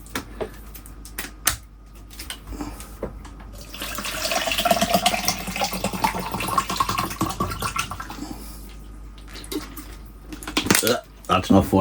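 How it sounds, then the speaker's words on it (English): Spring water poured into a cricket cup, a broad splashing pour that swells after a few seconds of light handling clatter and runs steadily for several seconds before tapering off into small knocks. "I'm just going to put some spring water in."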